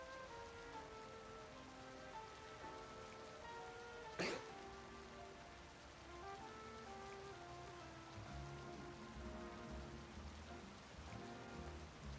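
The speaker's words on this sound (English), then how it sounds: "A rainy day." Rain falls steadily in the Pokemon Legends: Z-A video game, a constant soft patter under game music, broken by one short sharp burst partway through.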